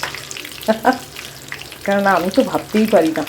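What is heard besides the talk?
fish frying in lots of oil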